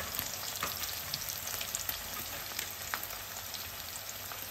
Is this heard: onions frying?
yes